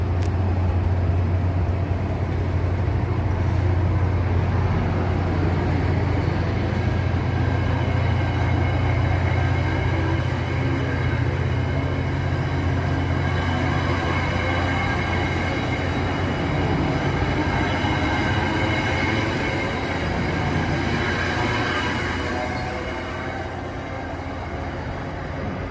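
A train pulls away and keeps rolling, with a loud, steady low rumble and rhythmic clatter that thins out slightly toward the end, no voices.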